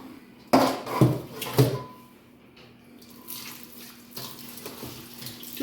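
Fish being washed under a running tap in a vessel, with close splashes and water rushes, a few sharp bursts early, then a softer steady flow.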